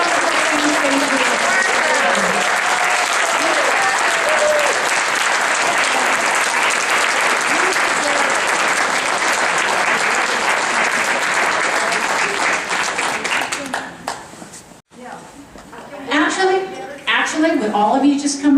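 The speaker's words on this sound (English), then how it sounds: "let's give them all applause and thank them for all the wonderful things they do" Audience applause for the queens at a Queen For A Day event, loud and sustained for about fourteen seconds before dropping off, then a few scattered claps and murmurs return at the end.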